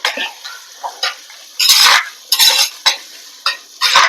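Kudampuli, onion and tomato frying in oil for a Kerala-style fish curry, heard as close bursts of scraping and stirring in the pan with soft sizzling between strokes.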